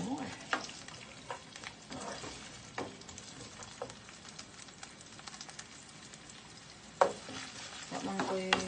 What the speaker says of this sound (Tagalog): maggisa na ta. Gisa-gisa. Butang na to ang onion.